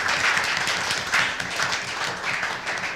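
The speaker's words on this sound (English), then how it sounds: "Let's give each presenter a round of applause" An audience applauding presenters at a planning meeting, a steady patter of many hands clapping throughout, moderately loud and continuous.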